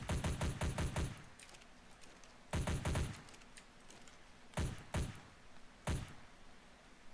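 Gunfire in the survival video game ARK: rapid bursts of shots fired in quick clusters, with a fast rattling volley first and then several shorter, separated bursts, fairly faint overall.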